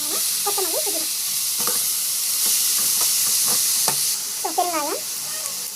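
Chili, carrot, onion, tomato and spices sautéing in a pan give a steady hiss with occasional scrapes and taps of stirring, while someone speaks briefly over it.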